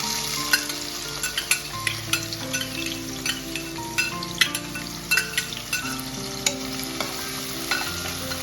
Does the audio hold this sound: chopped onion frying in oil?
yes